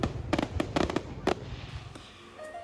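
Fireworks burst during Vietnamese Lunar New Year (Tết) celebrations: a quick cluster of sharp cracking bangs in the first second and a half, then a fading crackle and rumble.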